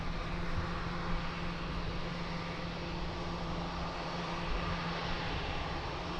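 Aircraft departing Lisbon Airport, a continuous loud engine roar with a low steady hum, sustained evenly with no voices.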